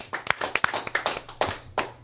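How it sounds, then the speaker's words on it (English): A few people in a comedy podcast audience give a short burst of sparse, uneven claps, close and fairly quiet, lasting about two seconds. "Applaud."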